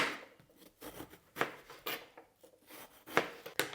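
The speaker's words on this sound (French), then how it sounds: "on va les découper au fur et à mesure et les mettre directement dans la casserole" A knife slices peeled eggplant into thin strips a few millimetres wide for a vegan moussaka, giving quiet, irregular cutting strokes and board taps close by.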